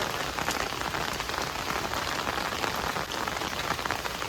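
Heavy torrential rain pours down in a dense, continuous hiss of drops hitting surfaces, loud and steady with no voices.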